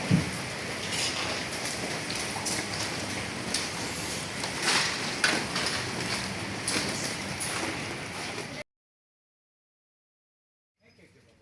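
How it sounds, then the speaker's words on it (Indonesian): Heavy rain pours over Ciledug in Cirebon, a steady dense hiss of downpour with scattered louder patters for most of the stretch, then breaking off abruptly into near silence at the end. "Hujan deras yang mengguyur Kecamatan Ciledug, Kabupaten Cirebon, selama setengah jam"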